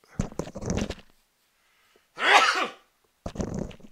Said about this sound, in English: Big old sneeze.